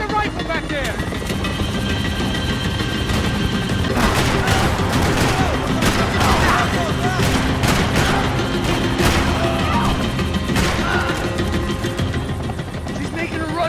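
Dense gunfire from a Max Payne 3 firefight, a sustained clatter of shots and impacts mixed with rotor-like engine drone and shouted voices throughout.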